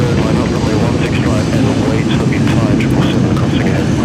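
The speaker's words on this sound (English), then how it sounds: "So there is our New York JFK service. Here she comes. Heading down to 16 left." An airliner on approach to runway 16 left at Sydney Airport gives a low, steady engine rumble while someone talks over it.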